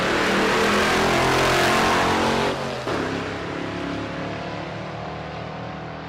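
Jeff Cordova's Mustang drag racing car accelerates at Rocky Mountain Race Week, a loud roaring engine that rises and then drops off after a few seconds, fading as it pulls away.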